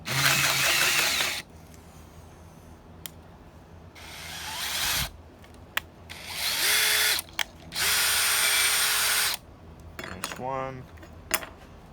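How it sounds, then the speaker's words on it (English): Power drill boring into a racing tractor's exhaust pipe, running in several loud bursts separated by short pauses, with a whining pitch that steps up partway through and a brief rattle of metal near the end. "this guy is kind of strange to drill"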